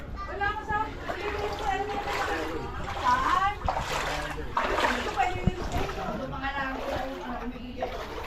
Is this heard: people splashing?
yes